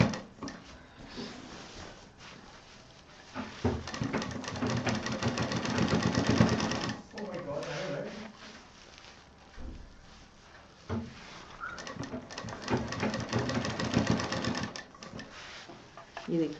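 Sewing machine stitching a round centre table cover, running in uneven bursts with pauses and someone talking over and between the stretches of motor whir.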